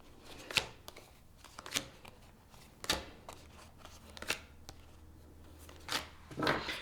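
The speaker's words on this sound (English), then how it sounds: "I'm going to pull all the cards first, and then we'll get into the details." Tarot cards are pulled and shuffled close by in a quiet room, with crisp riffling bursts and soft slides repeating in an uneven rhythm.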